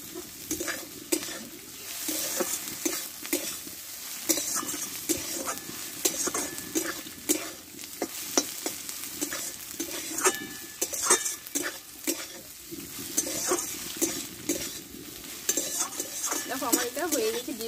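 Egg filling for dim paratha sizzles in a pan while a utensil stirs and scrapes it in irregular strokes, close up and moderately loud, with no speech.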